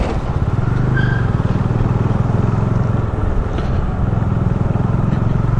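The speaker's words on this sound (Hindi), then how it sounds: "सुबह के टाइम में काफ़ी ट्रैफिक है यहाँ पे." Morning traffic at the Talegaon toll plaza near Pune, heard from a Bajaj Dominar 400 motorcycle: a continuous loud engine drone and road rumble, steady with no breaks and no talking.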